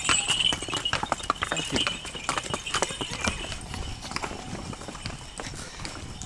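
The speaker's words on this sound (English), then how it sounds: "So these guys are going up the hill on these beautiful ponies." Ponies carry riders uphill through an ancient village near Dali, China, their hooves clip-clopping in a quick irregular rhythm that is loud at first and then grows fainter, while a voice speaks briefly.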